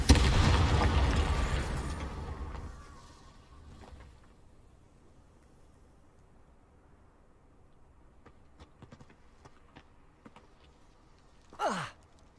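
A Confringo fire-spell blast in Hogwarts Legacy opens with a loud, rumbling explosion that decays over about three seconds, followed by quiet clicks and a brief whooshing sweep near the end.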